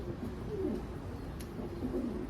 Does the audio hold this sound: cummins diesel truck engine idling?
no